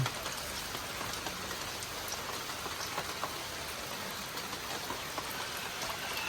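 Steady rain pattering on surfaces at a farm, a dense continuous hiss with scattered drops, no voices.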